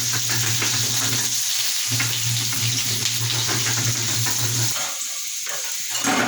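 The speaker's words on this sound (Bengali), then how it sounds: "আলুটা ভাজা হয়ে গেছে" Potatoes fry in a pan, a steady loud sizzle running continuously with stirring noises, easing off near the end, with no voices.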